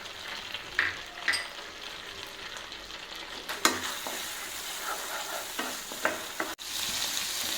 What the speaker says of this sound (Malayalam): ഇനി ഈ ഓയിലിലേക്ക് നമുക്ക് ഇഞ്ചി ചേർത്ത് കൊടുത്തു ഇനി ഇതിലേക്ക് വെളുത്തുള്ളിയും കൂടെ കുറച്ച് ചേർത്ത് കൊടുക്കാം